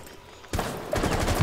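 Gunfire in the tactical shooter Rainbow Six Siege bursts in suddenly after a quiet moment, a dense loud rattle of rapid shots that carries on to the end.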